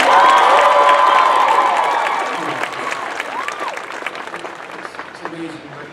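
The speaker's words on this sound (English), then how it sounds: "please a round of applause for Richard Sherman" Ceremony audience applauding and cheering for Richard Sherman at Disneyland's 60th birthday, a dense wash of clapping with whoops and shouts. It starts loud and then slowly fades, with voices calling out over it.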